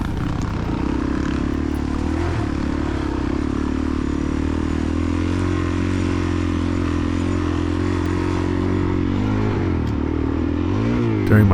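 Suzuki DRZ400E dirt bike engine at a cross-country race at Bar P Ranch, held loud and steady under load with shifting pitch, up to fourth gear, and a brief rev near the end; no talk.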